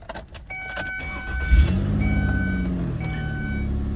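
A 2002 Ford Escape engine cranks and catches, then settles into a steady close idle while warning chimes beep repeatedly over the running engine.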